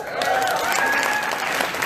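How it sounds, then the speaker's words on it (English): An audience at a keynote talk breaks into a round of applause, a steady wash of clapping with whoops and cheering voices mixed in, loud and sustained throughout. "Give her a round of applause."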